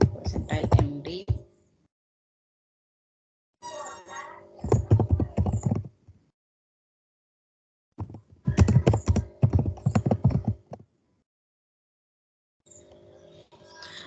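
Bursts of rapid key clicks on a computer keyboard while code is typed into a markdown cell, coming in separate spurts with pauses of silence between them, fairly close and clear.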